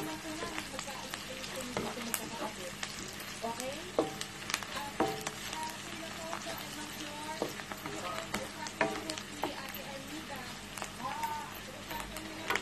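Food sizzles and fries in a pan while being stirred and mixed, with steady crackling and scraping strokes throughout and a voice talking over it.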